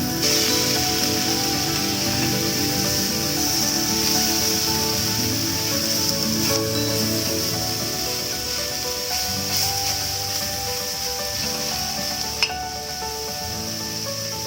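Sardines frying in hot oil in a pan, a dense continuous sizzle with steady spluttering and crackle, close and loud throughout, with no talking.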